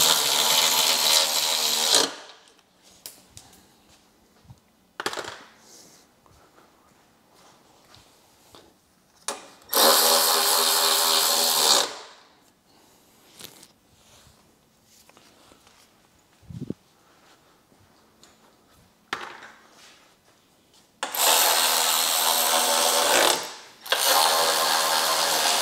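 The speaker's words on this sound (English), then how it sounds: "Now I'm gonna tighten them up with our ratchet." A ratchet tightens bolts on a Harley Davidson Electra motorcycle during radio installation, heard as several loud bursts of mechanical clicking separated by quieter handling noises and bumps.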